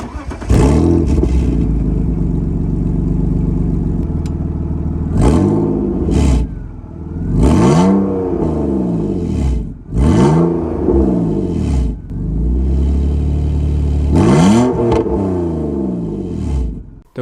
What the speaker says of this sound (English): This is what removing the muffler from an old BMW actually sounds like.